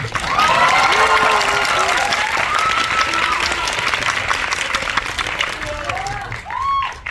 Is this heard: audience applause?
yes